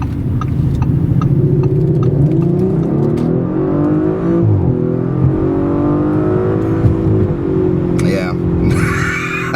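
A 2019 Audi RS 5 engine revs loudly and steadily, its pitch rising and falling in long sweeps throughout, with brief clicks near the start and a harsher burst of noise toward the end.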